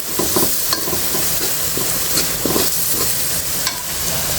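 Garlic and onion sizzle and crackle in hot oil while being stir-fried with a little turmeric for sautéed jute greens, with steady frying hiss and intermittent stirring scrapes close by, no talking.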